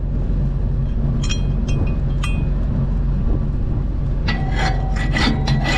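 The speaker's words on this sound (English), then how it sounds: "I always like to clean off that dirt that's on the shank" Dirt rubbed and scraped off the steel shank of a soybean planter, a continuous gritty scrubbing over a low engine-like hum, with sharper rasping strokes toward the end.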